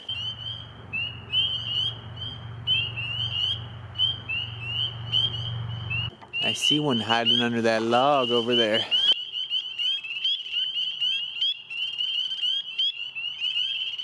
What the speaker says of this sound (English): I'll be hearing you for the hours you keep on croaking